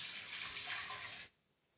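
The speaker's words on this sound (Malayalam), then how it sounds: "കുറച്ച് വെള്ളം ഒഴിക്കട്ടെ." Water is poured from close by into a cooking pot holding green chillies for an okra kalan, a steady gushing splash lasting just over a second before stopping abruptly into near silence.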